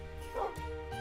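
A dog from the Doggy Talents mod in Minecraft gives a single quick, yipping bark, short and fairly faint, with a soft whine-like tail.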